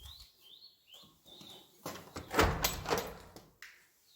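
A light screen door slides along its track with a rattling, scraping rush, ending in a soft knock, while birds chirp faintly nearby.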